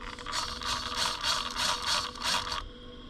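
HPI Baja 5B RC car given throttle on a stand, a whirring mechanical drivetrain rising and falling in several short bursts, close and alone.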